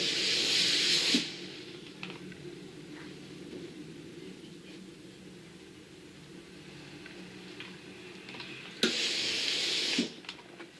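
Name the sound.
steam iron pressing skirt lining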